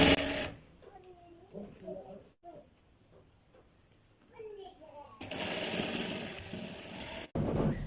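A sewing machine stitching a shirt runs in short bursts at first, then in a long, loud, steady run near the end, with quiet pauses and faint background sounds between.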